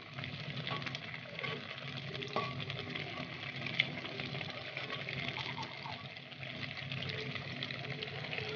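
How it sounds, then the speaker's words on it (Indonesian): Steady, dense sizzling of food frying in hot oil, continuous crackle and spatter throughout with a few small pops, fairly close. "Setelah minyaknya panas, lalu ini digoreng sampai warnanya kuning kecoklatan."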